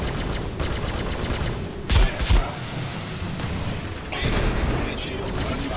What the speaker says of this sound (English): got locked. Missiles incoming.